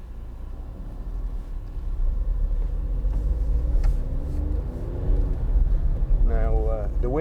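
A 2012 Volkswagen up! 1.0 Take up! three-door hatchback driving along, with a steady low road and engine rumble throughout and a voice talking over it.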